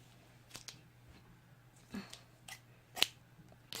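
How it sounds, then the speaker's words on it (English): Scissors cut crochet yarn in a few sharp, close snips spread over a quiet background, with the loudest clip near the end. "then I cut off my yarn"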